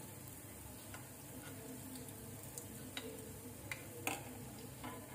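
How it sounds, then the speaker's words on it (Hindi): Malpua frying in ghee over a low flame gives a soft, steady sizzle with faint scattered crackles and pops, quiet and close, without talk. "इस पे धीरे धीरे घी डालते रहेंगे ऊपर से, जिससे ये बहुत ही अच्छा सिकेगा, क्रिस्पी भी बनेगा।"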